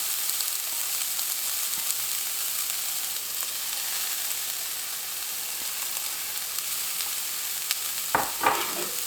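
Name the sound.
TVP frying in a nonstick pan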